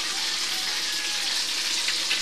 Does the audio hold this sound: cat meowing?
no